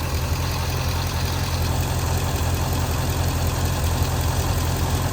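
A C6 Corvette engine runs at a steady idle with a wobbly harmonic balancer, a constant low rumble heard close up with no one talking.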